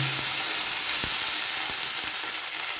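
Ginger, tomato and green chili sizzle steadily in hot oil in a pan, a dense continuous frying hiss with a few soft clicks of a spoon stirring through it, close and fairly loud.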